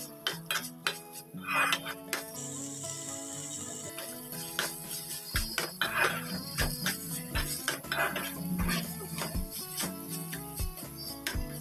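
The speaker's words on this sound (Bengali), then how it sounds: "মাছটাকে এই মশলার সাথে নেড়ে চেড়ে ভাজবো।" A metal spatula scrapes and clinks against a pan as Bombay duck fish is stir-fried with spices, brisk repeated clattering strokes close by with a faint sizzle underneath and no talking.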